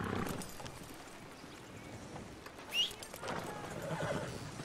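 A horse in the Red Dead video game gives a brief whinny partway through, set against a low continuous outdoor ambience with faint hoof-like rustling, moderately distant and fairly quiet.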